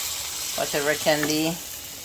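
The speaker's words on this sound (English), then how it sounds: "I'm gonna drop this in the oil." Steady sizzling of saltfish and bell pepper fritters frying in hot oil, with a voice speaking briefly over the crackle.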